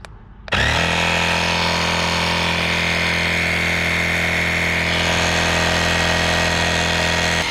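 A LASFIT AIR cordless portable air compressor starts abruptly and runs at close range with a loud, steady motorized drone and buzz that holds constant once running.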